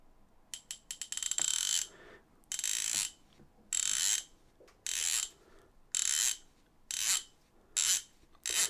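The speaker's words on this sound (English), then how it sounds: "Anyway, listen for that drag clicker." A Soloking Larkie baitcasting reel's drag clicker, the spool pulled in seven distinct bursts of rapid, loud, closely spaced clicks, each lasting about half a second, with brief silences between them.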